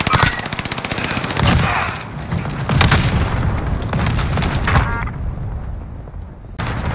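Rapid automatic gunfire in the Warzone video game, with a fast rattling burst up front, then heavy shots, booms and scattered firing continuing loud and close throughout, with no talking.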